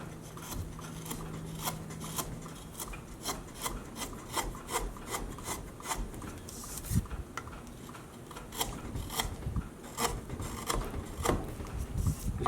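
A wooden piece smoothed by hand with a rasp or file, a series of sharp rhythmic scraping strokes, close and clear, some stronger rubbing passes between, with no one talking.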